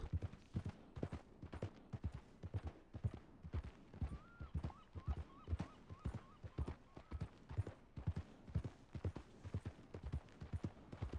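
Horse hooves clip-clopping at a steady trotting rhythm in Red Dead Redemption 2, evenly spaced moderate thuds that continue without pause, with a faint whinny-like tone briefly rising partway through.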